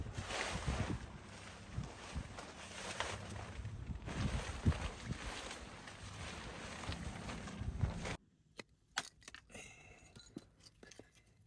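Strong wind buffets the microphone outdoors at a campsite in Tibet, a loud continuous roar for about eight seconds before it drops away abruptly, leaving quieter scattered gusts and rustling.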